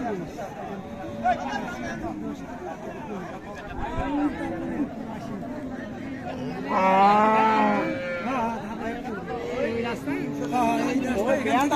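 A Friesian cow with a full udder gives one long, drawn-out moo partway through, rising over a steady murmur of people chatting nearby at a cattle market in Raniganj.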